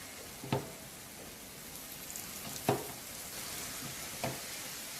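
Small round shaobing flatbread cooking slowly on an oiled griddle over medium heat gives a steady, soft sizzle, with a few sharp clicks or taps scattered through it.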